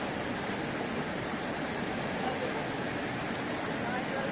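The Tirthan River rushes close by, its flowing water making a dense, steady broadband roar with no breaks, while someone speaks faintly beneath it.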